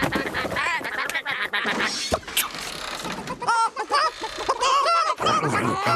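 Cartoon ducks in a barn quack and honk busily for several seconds, a dense, close flurry of overlapping calls with a few mechanical clanks mixed in.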